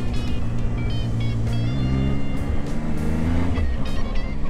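Zontes 703F Adventure motorcycle engine runs loud and steady while riding, its pitch sliding up and dropping as it shifts down a gear, with a continuous droning hum throughout.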